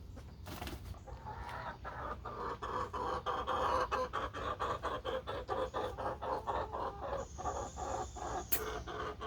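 Chickens cluck and murmur steadily nearby, with short rhythmic pulses repeating throughout and a brief sharp sound near the end.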